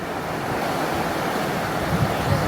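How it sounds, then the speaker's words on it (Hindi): A mountain stream rushes past near a temple on the trekking route toward Gaurikund on the Kedarnath pilgrimage, its water a steady, dense, broadband roar without a break, close and fairly loud, mixed with some wind buffeting the microphone. "पानी बह रहा है"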